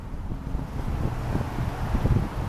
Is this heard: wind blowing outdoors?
yes